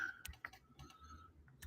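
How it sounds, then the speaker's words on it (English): Typing on a phone screen, a light run of soft, irregular taps and clicks close by, spaced unevenly over a quiet background. "I'm typing off my phone, by the way."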